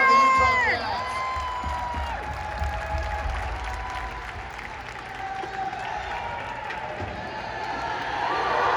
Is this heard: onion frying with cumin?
no